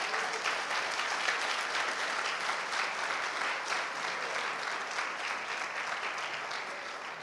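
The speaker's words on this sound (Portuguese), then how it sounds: "dê uma salva de palmas a Jesus" A church congregation applauds in praise of Jesus, an even, continuous wash of many hands clapping, heard from a distance and fairly quiet, with no break for over seven seconds.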